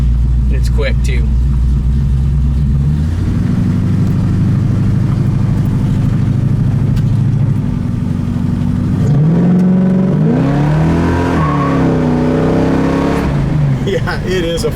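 Deep 1973 Camaro muscle car engine rumbling and revving close by, the pitch climbing and dropping as it accelerates, with people talking over it.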